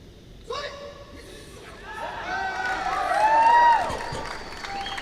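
Crowd at a 2016 IPC powerlifting World Cup in Rio de Janeiro cheering and shouting, swelling from a single shout into broad applause and whistles, with a commentator speaking over it.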